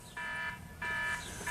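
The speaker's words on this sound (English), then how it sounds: "stupid alarm on my iPod. Very old iPod Touch 2." An alarm on a very old iPod Touch 2 sounds as repeated electronic beeping bursts, three evenly spaced tones, moderately loud and heard alone.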